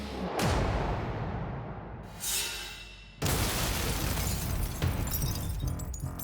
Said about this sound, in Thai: เสียงระเบิดที่ดังมาจากรถกู้ชีพฉุกเฉิน